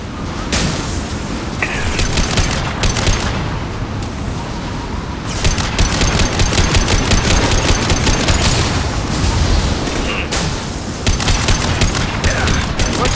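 Gunfire in a Mass Effect 2 firefight: sustained loud bursts of automatic weapon fire with heavy booming impacts, dense and continuous across the whole stretch, with no talking.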